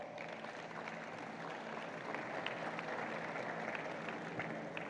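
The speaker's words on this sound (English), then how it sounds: "A round of applause." An audience at a DW and JoyNews youth forum claps for Director General Peter Limburg, a dense, even round of applause from many hands at moderate distance, lasting throughout with no speech.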